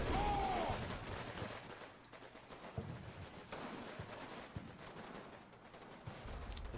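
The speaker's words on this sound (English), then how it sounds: "That Panzerschreck is having a go at it as well." Panzerschreck rocket fire and grenade blasts in the World War II game Combat Mission Battle for Normandy, heard as dull thuds and cracks scattered through a steady muffled battle rumble, with sharper impacts every second or so.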